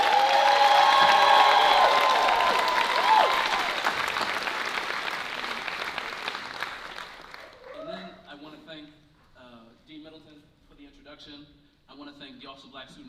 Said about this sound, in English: I also want to clap it all up for you all